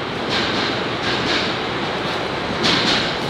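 A train rolls past at a station with loud, continuous rumble and clatter, surging in bursts of rail noise as cars go by close to the listener.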